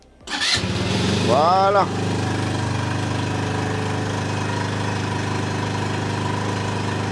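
An engine jump-started with a TOPDON JS1200 booster cranks and catches, revs up briefly, then settles into a steady, even idle; a voice speaks briefly as it fires.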